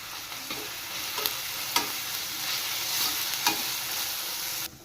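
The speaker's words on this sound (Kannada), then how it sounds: "ಈರುಳ್ಳಿ ಗೋಲ್ಡನ್ ಕಲರ್ ಬರೋವರೆಗೂ ಚೆನ್ನಾಗಿ ಫ್ರೈ ಮಾಡ್ಕೊಂಡಿದ್ದ ನಂತರ ಶುಂಠಿ ಬೆಳ್ಳುಳ್ಳಿ ಪೇಸ್ಟ್ ಸೇರಿಸ್ಕೋಬೇಕು" Onions frying with ginger garlic paste in a pan, a steady close sizzle broken by occasional spoon scrapes and light knocks, ending abruptly.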